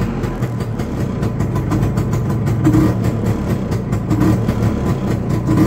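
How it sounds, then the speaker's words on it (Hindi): An auto rickshaw engine idles after a roadside restart at night, with a loud, steady low rumble and a fast, even throb running unbroken throughout, no voices over it. "अपना गाड़ी चालू हो गया है."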